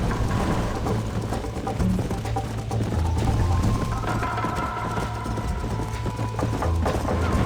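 Horse hooves clip-clop steadily and loud in the Red Dead Redemption 2 video game, a galloping rhythm under a continuous low rumble of wind or rain.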